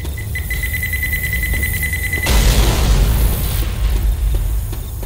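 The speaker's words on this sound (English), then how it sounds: "Pipe bomb out!" A pipe bomb blast in the video game Left 4 Dead 2 lands as a loud, deep boom about two seconds in, after a steady beeping tone, and rumbles on for a couple of seconds amid game noise.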